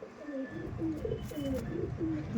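Andhra Madrasi pigeons in a loft coo in a slow, repeated rolling rhythm, close and moderately loud, with a few soft rustles and no talk.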